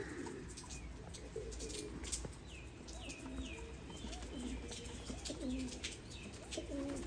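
Faint, steady cooing from a loft of fancy pigeons, Teddy, Golden and Black Tiger breeds, with repeated soft rolling calls and occasional chirps over a low ambient hum.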